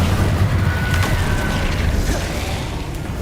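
Incendio fire spell cast in Hogwarts Legacy: a dense, steady roaring whoosh of flame with a deep rumble underneath, loud and continuous, easing off slightly toward the end.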